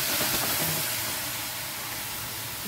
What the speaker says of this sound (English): This is a smoky pan. This is going to steam and sizzle quite a lot.